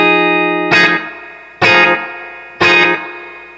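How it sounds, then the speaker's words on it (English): Electric guitar, a '72 Gold Top into a '68 Super Reverb, striking three spanky chords through an AnalogMan ARDX20 analog delay set for slapback, each chord ringing evenly with a quick echo and light reverb. "we've got channel A set up for a splash of slapback"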